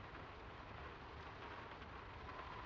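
Steady rain in the video game Draugen, a dense, even wash with low rumbling underneath, faint and continuous with no voices.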